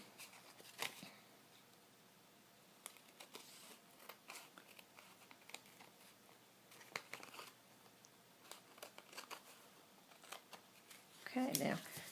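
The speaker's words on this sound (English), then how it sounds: "And then I'll just trim away the excess napkin." Scissors trim excess napkin away from an index card, producing quiet scattered snips and papery crinkles close by, with a louder rustle near the end.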